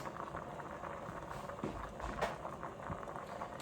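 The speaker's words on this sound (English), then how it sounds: "I'm just going to put my peas on to cook the peas" A pot of peas boils on a stove for a Jamaican rice and peas dish, giving a steady close bubbling and patter with faint clicks, and no voices over it.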